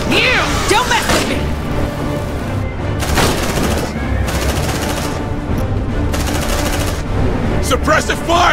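Rapid gunfire and heavy impacts from the squad tactics game Aliens: Dark Descent crackle in dense, overlapping bursts, loud and close, while game voices shout over the shooting.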